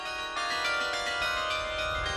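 A Dutch-made carillon installed in 1976 at the Palau de la Generalitat rings out as sustained, overlapping bell tones with rich ringing overtones, steady and fairly loud, with no voices.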